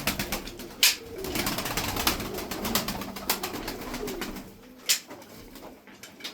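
Taklacı tumbler pigeons coo softly and repeatedly nearby, a steady murmuring chorus with a few louder flutters or clatters over the top.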